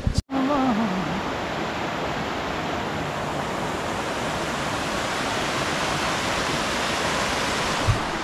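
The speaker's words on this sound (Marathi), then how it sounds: "किरकोळ धबधबा नाहीये, ती स्ट्रीम आहे पाण्याची." A stream of water flowing outdoors in the Mulshi area: a steady, full rushing wash of water that holds constant for several seconds, with a brief knock at the start and no talking.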